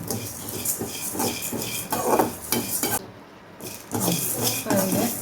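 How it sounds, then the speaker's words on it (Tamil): Chutney ingredients lightly roasted in a pan over a low flame, with repeated scraping and stirring strokes of a utensil against the pan over a soft sizzle, close and fairly steady. "சிம்மில் கொஞ்சம் நேரம் வச்சு இப்படி லைட்டாக ரோஸ்ட் பண்ணி"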